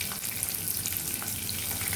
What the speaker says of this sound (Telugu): ఇప్పుడు ఓన్లీ ఎర్రుల్లిపాయ వేస్తున్నా